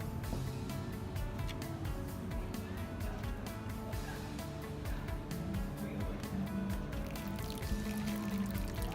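Water spurts from a hole in a bottle during a physics experiment as a continuous pouring, trickling stream with light splashing.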